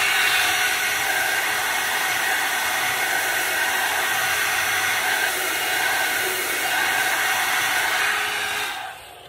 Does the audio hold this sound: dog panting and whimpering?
no